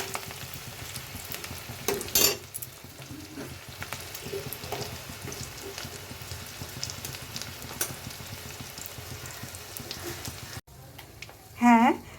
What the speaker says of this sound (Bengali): পেঁয়াজটা লাল, একদম লাল লাল করে সুন্দর করে, বেরেস্তা হবে না, বেরেস্তার মতো করে হবে।